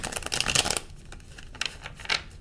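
A deck of tarot cards is shuffled close by, with a quick riffle of papery flutters and snaps, then a quieter pause and a second shorter burst.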